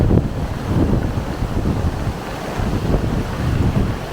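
Heavy rain pours down steadily during a downpour in the UK, with water splashing and rushing in a continuous broadband wash that stays loud and even throughout, with no voices.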